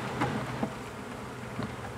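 Steady dense buzzing of many honeybees from a package being installed into a top-bar hive outdoors, a continuous drone with a few individual bees passing close.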